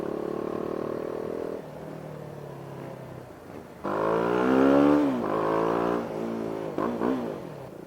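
A BMW G 310 R motorcycle revs on a ride, engine pitch climbing and falling through several throttle blips and a strong rising surge midway, close and loud with no talking.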